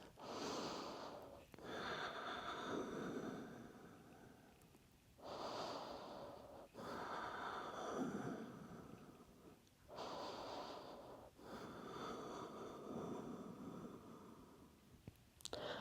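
Slow, deep breaths during a beginner vinyasa yoga session: three long, airy inhale-exhale cycles, each several seconds long and separated by brief pauses, heard close and steady with no talking.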